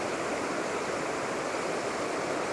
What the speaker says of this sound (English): show you this unnamed waterfall that's along the path